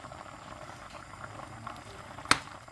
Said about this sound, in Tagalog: So, ayan, kumukulo na.